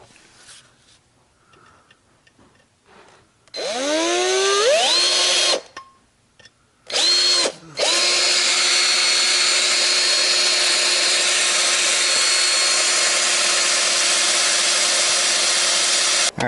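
A power drill bores and widens a hole with progressively larger bits, spinning up in short rising whines before settling into a long, steady, loud high-pitched run, close by and without talk.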